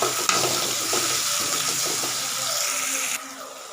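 Chopped tomato sautés with a little salt in a pan for beetroot rice, giving a close, busy sizzle and stirring scrapes that stop abruptly near the end, leaving a quieter tail.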